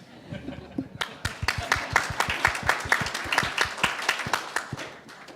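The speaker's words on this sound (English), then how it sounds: "I think you all deserve an applause for that" A short burst of applause from a group, many hands clapping together in a dense rhythm that swells quickly and then carries on steadily.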